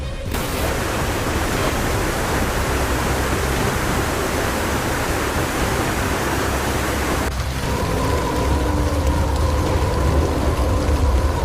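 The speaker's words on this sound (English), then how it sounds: "the skies opened up suddenly, dumping nearly a year's worth of rain in just a day and a half" Heavy rain pours during flooding in Baoding, China, a loud, dense, unbroken roar of falling water that shifts slightly in tone partway through.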